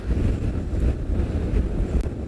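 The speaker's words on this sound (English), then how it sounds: "It's very windy." Strong wind buffets the microphone at sunset on an African safari drive through thorny bush, a steady, loud, low roar with gusting swells and no speech.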